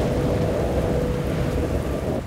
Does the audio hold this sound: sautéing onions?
no